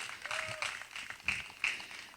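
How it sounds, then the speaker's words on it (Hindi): Audience applause at a 2013 stage show in Agra, a broad wash of clapping lasting about two seconds with a few sharper bursts, moderately loud and without talk. "तालियां फिर से होनी चाहिए।"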